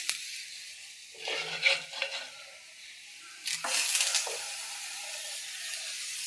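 Crab is tipped into a hot pan and breaks into bursts of bright sizzling with clattering pieces, then settles into a steady hiss of frying.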